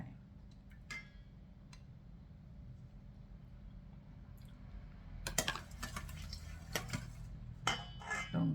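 Utensil clinking against a bowl while stirring a Thai salad of salted egg and sweet preserved radish, quiet sparse taps at first, then a busier flurry of scraping clinks near the end.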